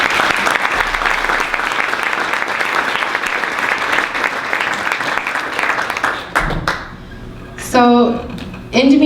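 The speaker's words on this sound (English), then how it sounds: "I think we can give them a round of applause real quick." An audience at a medical talk on endometriosis gives a round of applause: dense, sustained clapping for about six seconds that fades out, followed by a speaker's voice.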